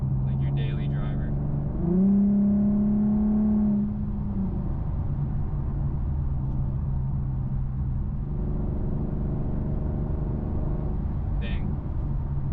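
Infiniti Q50 fitted with a loud custom exhaust, a deep idling rumble that swells into a brief rev about two seconds in and then settles back to a steady idle, with someone speaking over it.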